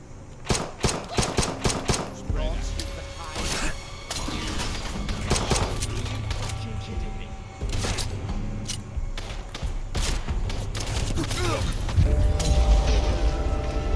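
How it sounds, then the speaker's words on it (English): Enemies fire pistols in the video game Fallout London: a quick run of sharp, loud shots opens, then more shots pop out of a dense, rumbling combat din that runs continuously to the end. "They are damned accurate with those pistols."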